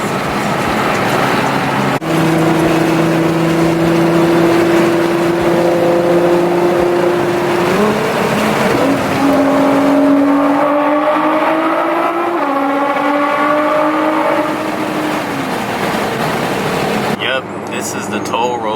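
A big-turbo Mitsubishi Evo 9 revs hard through a tunnel, its loud droning engine note climbing in steps and echoing before a sudden cutoff near the end.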